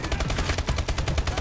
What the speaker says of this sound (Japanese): 全然違うとこ撃ってる俺